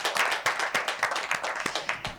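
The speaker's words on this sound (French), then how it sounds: "On applaudit pour Philippin." An audience claps for a guest on a television talk show, a moderate, uneven patter of hands close by, with distinct individual claps standing out throughout.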